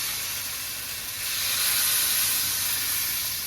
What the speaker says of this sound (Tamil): அடுப்பில் தோசைக்கல் போட்டிருக்கேன் நல்லா காஞ்சிட்ருக்கு கரைச்சி வச்ச மாவுலேருந்து நம்ம ரவா தோசை போடுற மாதிரி தான்